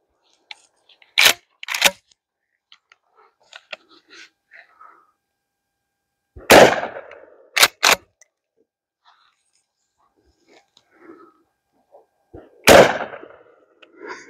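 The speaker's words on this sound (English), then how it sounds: "Let's put a couple slugs through those 2 liters and see what they like to do." Aguila short shell shotgun slugs are fired at 2-liter bottles outdoors, giving sharp, loud reports in pairs spaced several seconds apart, each followed by a short echoing tail, with faint murmurs between shots.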